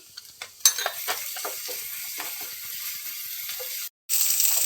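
Ginger garlic paste frying with onions in a pan, a continuous sizzle broken by spoon scrapes and clinks against the pan, with a brief pause near the end before the hiss resumes.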